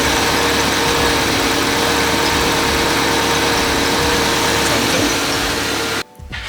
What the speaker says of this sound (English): you can still hear the bearing. Because that's the injectors firing.